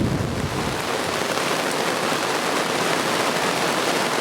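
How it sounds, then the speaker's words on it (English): Heavy rain from a storm pelts woodwork and the surface of a lake, a dense, loud, unbroken hiss of drops with a low rumble beneath. "And there's the storm that I was just filming a few minutes ago, as it's finally hit us. Bouncing off the woodwork at the moment, bouncing off the lake."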